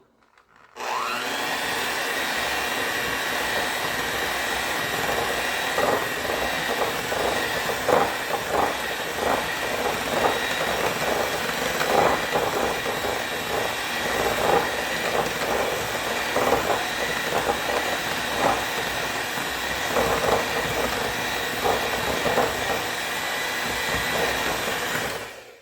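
Fruitcake batter being mixed in a bowl by an electric mixer: a steady, loud whirring hum that runs continuously for the whole stretch, with small bumps and scrapes mixed in.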